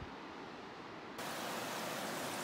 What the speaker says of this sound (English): I'm down at the river now. It's probably pretty loud